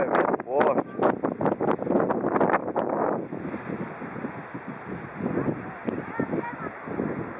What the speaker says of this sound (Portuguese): É vendaval, é um vento forte.